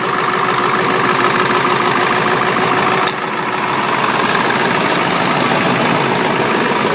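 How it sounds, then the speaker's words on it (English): A Ford 7.3 Powerstroke diesel idles after a cold start with a loud, steady, close clatter and rumble, unbroken except for a brief dip midway, with no voices. "Good old Powerstroke right there"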